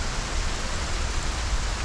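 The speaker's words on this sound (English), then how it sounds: "I'm getting pelted by rain" Steady, dense rain in the video game Project Zomboid, a constant hiss of falling water that is even and fairly loud throughout, with no talking.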